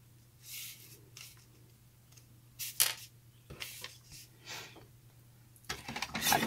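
Sticky scissors cut through double-sided tape, producing a few faint, close snips and tacky clicks spaced irregularly over a quiet background hum.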